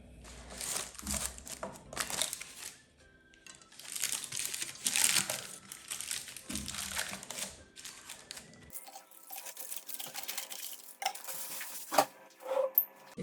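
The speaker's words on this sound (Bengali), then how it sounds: "বেকিং টিনের মধ্যে একটা বেকিং পেপার বিছিয়ে" Baking paper crinkles and rustles as it is pressed into a baking tin for a no-oven chocolate cake, in bursts of close, crisp crumpling with short pauses and a few sharper handling knocks.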